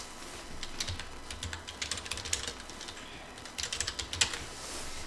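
A computer keyboard clatters in quick bursts of keystrokes, with short pauses between runs, fairly close and moderately quiet, and no talking.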